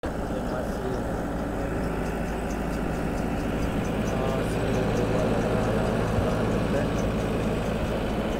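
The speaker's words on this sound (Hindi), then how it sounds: "यहाँ पर देख सकते हो छोटा सा ट्रैक्टर है।" A small tractor engine runs steadily in a farm field, a continuous low rumble that stays fairly loud and close throughout, with faint background noise over it.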